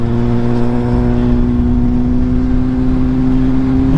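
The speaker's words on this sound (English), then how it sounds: "I can just roll on the throttle, no stuttering." Motorcycle powered by a CBR600F3 engine pulls smoothly in sixth gear as the throttle rolls on, a loud steady close engine hum with strong sustained tones and wind noise, no stuttering.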